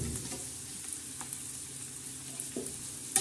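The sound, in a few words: chili garlic thecha being stirred into frying greens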